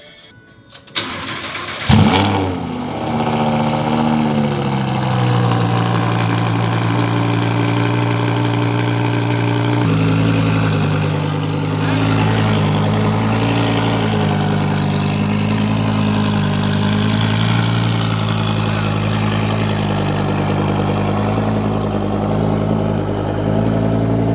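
A supercar engine cranks and fires up with a sharp burst, then settles into a deep, loud, rumbling exhaust idle that runs steadily, close by and without speech.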